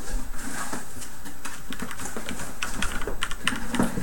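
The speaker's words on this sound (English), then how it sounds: "I can type in the window." Rapid, uneven keystrokes clatter on a computer keyboard at close range, a steady run of light clicks with brief pauses and no talking.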